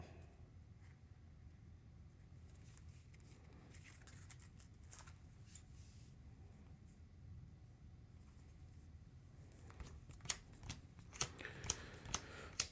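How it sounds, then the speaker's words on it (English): A deck of game cards is shuffled by hand at the table, soft riffling and rustling that ends in a run of sharper snapping taps, close and quiet with no talk. "I've got all the cards here. I just have to shuffle them up."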